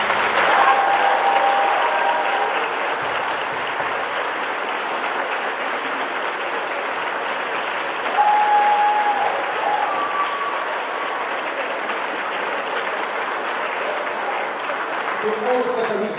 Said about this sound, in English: I think they deserve the most massive round of applause